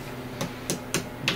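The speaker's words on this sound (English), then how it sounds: "Take your big dead blow hammer." Big dead blow hammer tapping a piston and ring compressor down into a 440 Mopar V8 engine block, four short dull knocks at irregular intervals, close up over faint background hum.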